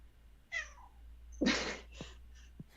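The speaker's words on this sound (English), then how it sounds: "sorry, my cat's talking to me" A house cat meows several times indoors, a clear close meow followed by a few shorter chirping calls, alone in a quiet room with no speech.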